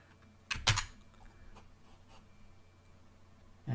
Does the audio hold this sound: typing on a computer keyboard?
yes